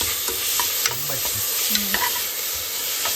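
Tomatoes drop into a hot pan for a mutton chops dish and are stirred, bringing a loud steady sizzle with repeated scraping strokes and light utensil knocks throughout and no voices.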